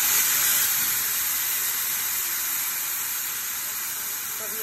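Loud, steady hissing and sizzling as blended tomatoes hit hot oil while cooking an okra and lamb tagine, continuous and close without letting up.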